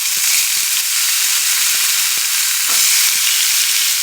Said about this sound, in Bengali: তো এবার আলুগুলো তুলে দিই